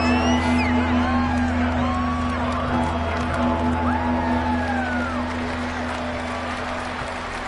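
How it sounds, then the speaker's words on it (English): Crowd at a football game cheering and whooping loudly and steadily ahead of a big third down in a one-possession game, with a continuous roar, rising whistles and shouts, tapering slightly toward the end. "The crowd getting into it as we come up on a big 3rd down."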